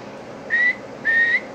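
Two short, steady whistles blown into a radio microphone while an MFJ 870 SWR power meter is being checked, the second longer than the first, clear and close over a faint hiss.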